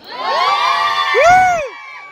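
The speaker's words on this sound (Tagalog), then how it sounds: "Sigaw muna ang team boy." A group shouting and cheering for team boy at a gender reveal, a loud burst of excited voices and whoops lasting about two seconds with high rising and falling cries, close and alone.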